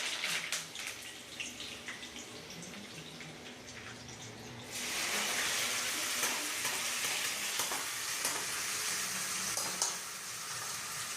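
Mustard seeds and curry leaves hitting hot oil in a pan, a soft crackle that bursts into loud, dense, steady sizzling partway through and keeps going close up, with no talking.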